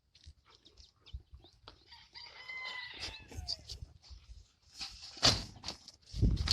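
Rooster crowing mixed with bird calls, a drawn-out crow in the middle followed by sharper bursts of clucking and calling, fairly close and loud at moments.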